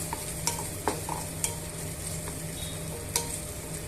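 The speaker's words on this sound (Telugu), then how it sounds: "మిక్స్ చేసుకొని వేయించేసుకోవాలి" Ginger garlic paste mixture frying in a pan for a masala egg omelette, a steady close sizzle with a few sharp scraping taps of a spoon against the pan as it is stirred, no voices.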